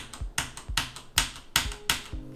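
Several keys on a cheap anti-ghosting gaming keyboard are pressed together in quick bursts. About seven sharp, close clacks come in an uneven rhythm, with no talking.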